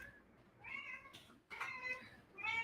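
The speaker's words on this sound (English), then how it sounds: "That's one of my, he's my half cat." A half-owned cat meows indoors, two drawn-out, fairly faint cries separated by a pause, followed by the start of a third, with a soft background hum.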